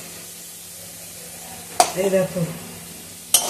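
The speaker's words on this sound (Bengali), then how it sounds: "আলুটা আরো কিছুক্ষণ ভেজে নেব" Potatoes fry in oil for aloo chorchori, giving a low, steady sizzle throughout. Near the end a brief spoken remark and a couple of sharp clatters cut in over it.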